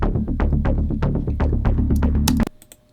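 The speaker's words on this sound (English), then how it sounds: "I'm using a Saw Square Fat, and then I've shaped it a little bit." Rapid pulsing synthesizer notes from a shaped Omnisphere Saw Square Fat patch, with a buzzy, fat tone, play a quick rhythmic phrase, then cut off abruptly, leaving near silence.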